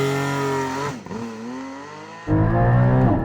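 A Porsche Cayman GT4 with PDK gearbox launches hard: the engine revs high, dips briefly as it bites, then climbs in pitch before surging louder again, close and with no voices.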